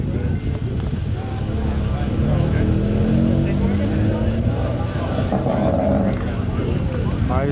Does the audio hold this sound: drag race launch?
yes